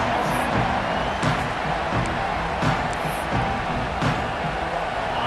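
Stadium crowd noise in EA Sports College Football 26 during an Ohio State vs Georgia Bulldogs game, a steady broad roar with a few faint swells and short thuds, heard alone without talk.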